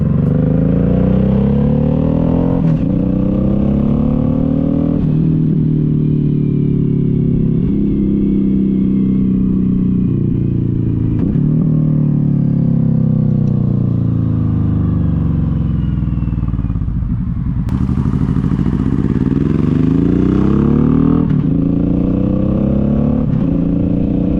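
A 2013 Suzuki C90T Boulevard Boss 1500 cruiser runs loud and close, its deep V-twin rumble rising and falling through repeated throttle changes and gear-like steps, unbroken by any talk.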